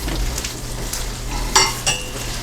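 Onion and steak frying together in a 12-inch pan, a steady close sizzle running throughout with two brief clinks of a utensil against the pan near the end.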